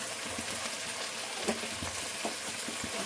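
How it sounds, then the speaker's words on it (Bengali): Spices frying in a hot pan while cooking a soybean and potato curry, a steady close sizzle with scattered stirring scrapes and small pops, no voices. "ভেজে নেবো মশলাটাকে"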